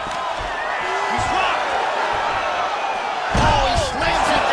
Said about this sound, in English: he slams it down with authority